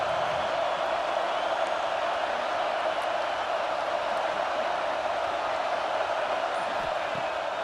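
Stadium crowd in the College Football 26 video game roaring on third down with the Gators on the field, a loud, steady, unbroken wall of cheering noise for several seconds.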